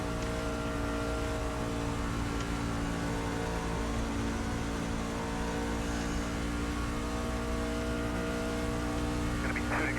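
Race cars roar around a track in a racing video game, with steady engine drone and shifting revs from several cars throughout, under faint background chatter.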